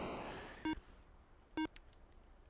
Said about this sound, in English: that constant beeping of the heart monitor adds a nice amount of tension to the mix